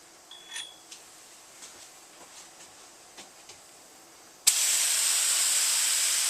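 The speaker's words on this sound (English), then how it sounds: "Coat 2 can go a little bit heavier. Slow, long sprays." An airbrush-style sprayer bursts on and hisses loudly and steadily as Duracoat finish is sprayed onto an AR lower receiver, following a few quiet clicks and taps.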